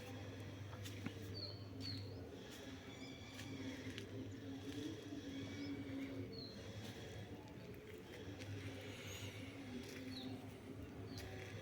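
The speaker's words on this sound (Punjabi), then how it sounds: "ਵੱਖਰੇ ਵੱਖਰੇ ਹੈ ਪੰਛੀਆਂ ਦੀਆਂ ਜਿਹੜੀਆਂ ਆਵਾਜ਼ਾਂ ਉਹ ਸਾਡੇ ਕੰਨਾਂ 'ਚ ਪੈਂਦੀਆਂ" Small birds chirping on a village morning, with faint scattered high tweets over a low, steady background hum, distant and quiet, with no voices.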